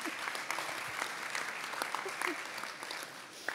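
An audience at a talk event celebrating France's national choreographic centres breaks into steady applause, a dense patter of many hands clapping with no voice over it.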